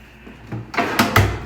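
A drawer in a hotel room slides and knocks shut, giving a couple of close, quick wooden bumps and scrapes, with no talking.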